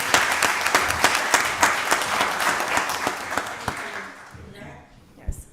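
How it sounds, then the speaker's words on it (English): A round of applause at a county board of commissioners meeting, with dense clapping from the room that fades away near the end, followed by a brief, quieter bump of sound. "Y'all give another round of applause."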